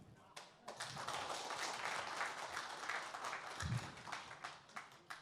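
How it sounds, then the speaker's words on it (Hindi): Faint but continuous crowd applause at the News Nation Excellence Award event in Patna, Bihar, a dense patter of many hands that carries on at low volume. "चुनाव आने वाले हैं और तालियां इतनी कम।"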